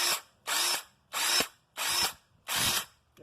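Heavy-duty battery impact wrench with a 3.0 battery firing in five loud, even bursts of hammering whir, each about a third of a second long with short pauses between, close and alone.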